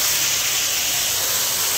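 A big beef sizzler hot plate hisses loudly and steadily up close, one continuous bright, steamy sizzle with no pauses and no voices.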